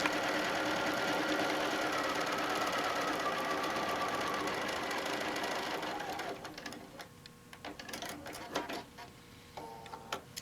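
A sewing machine stitches quilt pieces at a quarter-inch seam for a sunny forest panel quilt, running steadily and close for about six seconds before stopping, followed by faint taps and small handling clicks.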